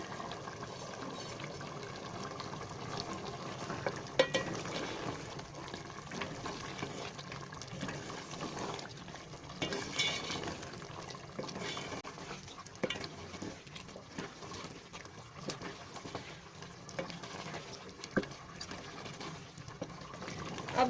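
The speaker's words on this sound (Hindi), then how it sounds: "अब इसे हम अच्छी तरह इसमें भून लेंगे" Beef gosht cooking with garam masala and crushed coriander, a quiet, steady frying sizzle in a pot with occasional soft scrapes and stirs throughout.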